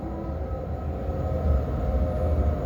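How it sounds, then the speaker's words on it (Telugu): A train slowing as it nears a station about 20 km from Sydney, with a steady low rumble of wheels and carriages, an even mid-level hum and faint tonal whine throughout, no voices. "స్టేషన్ రాబోతుంది, అందువల్లనే ట్రైన్ స్లో అయ్యింది"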